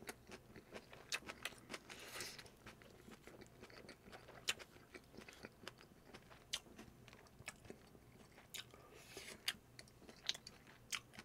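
Pork belly samgyeopsal wrapped in lettuce being chewed close up, with soft crunching bites and wet mastication repeating in an irregular rhythm, mostly alone in a quiet room.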